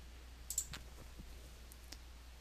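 A computer mouse button clicking while a web page is navigated, a couple of faint, sharp, close clicks over a quiet hum.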